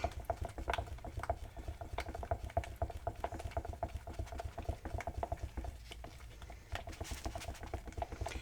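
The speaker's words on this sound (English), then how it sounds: "Let me stir that in real quick." Paint mixed with glue being stirred in a container, a steady soft rapid patter of scraping and sloshing repeating throughout, close but quiet, with no talking.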